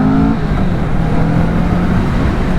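A 2024 Kawasaki Vulcan S motorcycle accelerates with a loud, steady, close engine roar that holds throughout, without talk.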